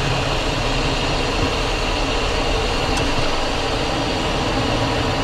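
Cessna Citation jet engines roar steadily during takeoff rotation at Nassau, Bahamas, as a loud, unbroken broadband rumble heard from inside the cockpit.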